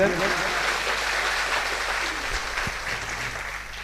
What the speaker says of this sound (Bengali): ওদেরকে ওদের জন্য একটা তালি দিয়ে দেন